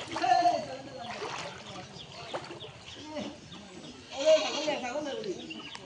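A goat swimming in floodwater on a flooded road in Hailakandi bleats in short wavering calls, close by, with people talking around it.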